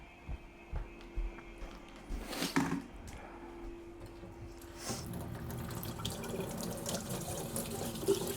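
A big kitchen knife is rinsed under a running tap, water splashing steadily into the sink with a brief louder gush and clatter partway through, close by.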